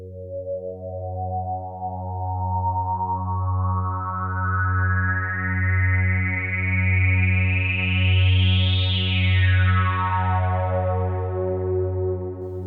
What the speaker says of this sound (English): So obviously you can go absolutely huge with the reverb.